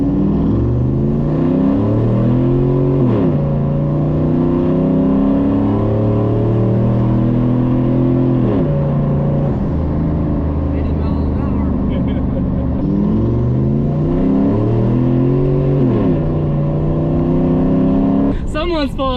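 A turbocharged pickup truck's engine revs hard in a burnout attempt, a loud close roar that climbs and drops through repeated rising sweeps, with voices talking over it.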